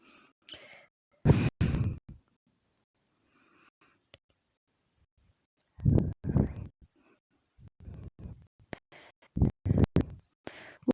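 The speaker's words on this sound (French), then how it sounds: "Si vous entendez ma respiration, je suis désolé." Close, heavy breaths into a microphone come in several bursts separated by quiet gaps, with sighing exhales.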